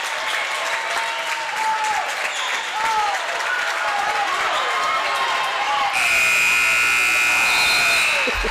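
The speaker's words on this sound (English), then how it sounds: "Starting to hear it from the crowd." Crowd at a high school 2A basketball state tournament game roars in the final seconds, a loud, sustained mix of cheering and clapping, with a long, steady horn-like game buzzer cutting in over the noise near the end.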